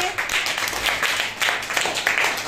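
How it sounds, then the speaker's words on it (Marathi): A classroom of children claps together in a brief, uneven burst of applause, close and fairly loud, trailing off after a couple of seconds. "टाळ्या वाजवा सर्वांनी"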